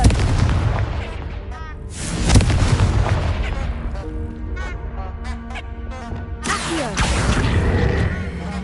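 A Confringo spell bursts in Hogwarts Legacy, a loud booming blast with crashing debris near the start, followed by a rumbling tail and a second burst of noise toward the end.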